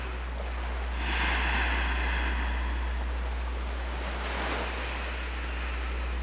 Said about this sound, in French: Le murmure des vagues l'entourait d'un balancement hypnotique et le cri lointain des mouettes complétait la mélodie parfaite de ce monde onirique.